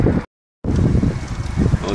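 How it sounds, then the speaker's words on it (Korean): Strong wind gusting at a Han River fishing spot at Yeouido during eel fishing, a loud steady rumbling roar buffeting the microphone, broken by a short silent gap. "지금 바람이 많이 부네요."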